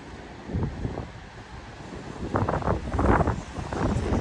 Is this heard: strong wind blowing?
yes